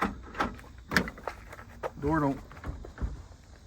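A car door that won't open, its handle tugged repeatedly with sharp clicks and hollow clunks at close range, and a voice briefly heard between the pulls.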